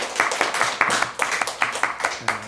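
A church congregation at an evening service claps in applause, many hands striking together in a brisk, steady rhythm that fills the room.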